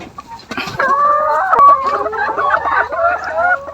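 A laying hen clucks in a nest inside the coop, loud and close, with a rapid run of squawking, rising calls that continues unbroken to the end.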